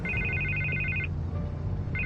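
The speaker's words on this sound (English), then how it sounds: "And I can't get the phone to stop ringing." A telephone rings in Batman: The Telltale Series, a bright electronic double-tone trill sounding for about a second, pausing, then starting again, with a low ambient hum beneath and no voices.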